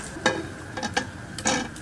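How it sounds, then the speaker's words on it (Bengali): Eggs fry one at a time in hot oil in a home kitchen, a soft background sizzle broken by several sharp scraping stirs of a spatula against the pan. "এইভাবে একটা একটা করে সবগুলো ডিম ভেজে নিতে হবে।"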